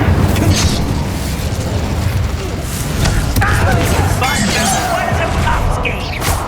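An Incendio fire spell cast in the Hogwarts Legacy video game, a loud continuous whooshing blast of flame mixed with booming combat effects, with a voice speaking over it.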